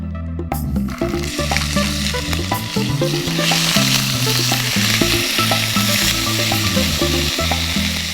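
Mustard seeds, ginger and garlic fry in hot oil in a pan for a vegetable curry. A loud, steady sizzle builds after a brief quieter start and runs on under background music.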